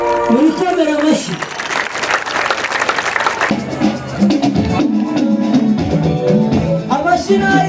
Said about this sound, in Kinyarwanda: murikomera amashyi